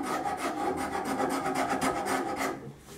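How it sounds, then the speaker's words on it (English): A Nicholson rasp shaves saw marks off a wooden cabriole leg for a card table, making a rhythmic, close, coarse scraping of repeated push strokes that fades out at the end, with no voices. "I've got the Nicholson rasp here. I'm taking out all the saw marks."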